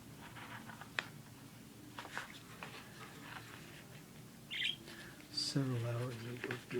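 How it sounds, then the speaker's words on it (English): Pet budgies chirping and cheeping indoors, scattered faint tweets and short warbles spread through a quiet room, with soft rustling and a voice heard speaking. "I haven't figured out the rhyme or reason to how and when they get inspired to start chirping, chortling, and cheeping"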